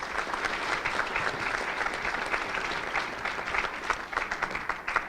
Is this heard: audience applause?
yes